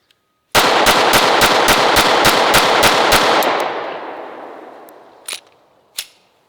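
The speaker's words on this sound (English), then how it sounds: "Should I do a mag dump? kind of feel like I should just to see about this gun" SCCY CPX-2 pistol fired rapidly through a full magazine, about a dozen fast, loud, close shots in a steady burst, followed by a long fading echo and two faint clicks afterward.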